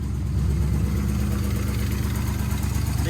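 A Cummins diesel swapped into a Trans Am idles steadily with a manifold leak, a loud, even low rumble with constant vibration and no pauses, heard alone at close range.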